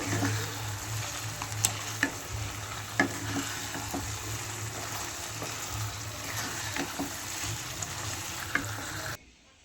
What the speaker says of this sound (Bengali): এর মধ্যে আমি চিকেনগুলো দিয়ে দিলাম এর মধ্যে, দিয়ে দেখো ভালো করে নেড়ে নিচ্ছি